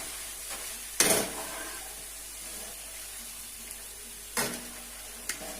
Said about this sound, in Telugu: పచ్చి చిప్స్ నూనెలో వేయించుతున్నాను.